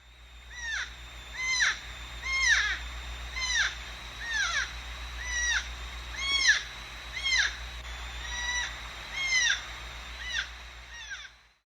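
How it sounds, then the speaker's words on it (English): Repeated wavering, squeaky bird-like cries from a North American porcupine seeking a mate on Kamiak Butte, about a dozen rising-and-falling calls at a steady pace, fairly close over a low constant background hum. "Hearing this, you may mistake them for a troubled bird, but in fact it is just a porcupine looking for a mate."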